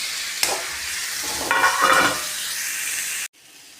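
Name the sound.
stirring and frying ground mustard spice mixture for pickle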